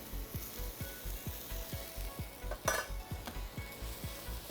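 Sliced leek is stirred in a hot pan with a wooden spoon, giving a faint sizzle under a steady series of soft, evenly spaced knocks, with a brief brighter hiss midway.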